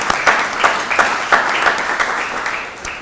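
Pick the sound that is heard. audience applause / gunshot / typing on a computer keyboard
audience applause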